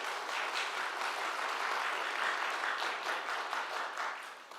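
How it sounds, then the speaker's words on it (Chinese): A church congregation at a Taiwanese-language Sunday service claps for a newly baptized woman, a steady dense wash of applause from many hands that fills the room throughout and tapers slightly at the end. "让我们大家跟你拍手鼓掌一下"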